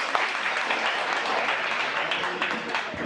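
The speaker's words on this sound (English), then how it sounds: "Clap for that" A seminar audience breaks into a short burst of steady, dense clapping that fills the room at an even level throughout.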